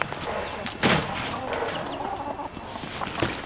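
Backyard hens fighting among themselves, with the pecking order in dispute, let out clucks and a sudden sharp squawk amid scuffling, fairly close in an outdoor pen.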